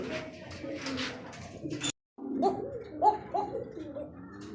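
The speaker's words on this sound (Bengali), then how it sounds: "একজোড়া ককা কবুতর দিয়ে দেখ শুনতেই পারতেছেন তার ডাকটা" A pair of Kaka pigeons coos close by in a few repeated low, throaty calls, with a brief silent gap near the middle and faint background noise.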